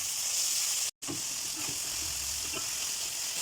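Tomatoes go into browned onions frying in a pan for Chennai-style vadakari, giving a loud, steady sizzle with soft stirring scrapes and one brief dropout near the start.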